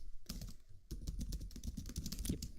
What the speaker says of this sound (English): You can hear that I'm typing, can't you?